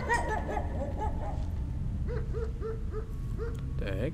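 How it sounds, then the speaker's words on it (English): A dog in a video game barking and yipping in a series of short, repeated calls over a steady background drone, ending in a whimpering cluster. "It's a dog?"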